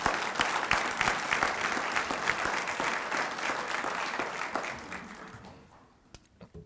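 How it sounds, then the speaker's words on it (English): An audience at a neighborhood address claps for award recipients, a full, steady round of applause from a crowd that gradually thins and dies away with a few last claps. "Let's give the Cobains a round of applause"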